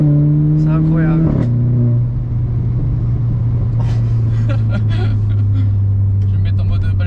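A car launching hard with launch control on a damp road roars loudly with a steady, deep engine drone. The pitch drops sharply once as it shifts, and voices talk over the noise.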